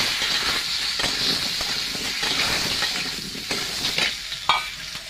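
Diced potato and pumpkin fry in a pan for khichuri, giving a steady broadband sizzle with scraping stirs and a few sharper clinks toward the end, with no talk.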